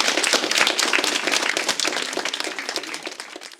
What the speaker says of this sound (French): je vous demande de les applaudir bien fort pour leur investissement